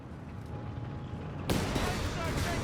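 A Panzer III tank is destroyed in a Company of Heroes 3 battle: a sudden loud explosive burst cuts in about halfway through and leaves heavy rumbling, crackling combat noise after a quieter stretch of distant battle ambience.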